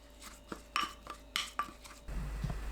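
A spoon mixing a seasoning sauce of minced garlic, chili, green onion, chili flakes, soup soy sauce, sesame oil and sesame seeds in a bowl, giving several quiet, irregular clinks and scrapes against the bowl.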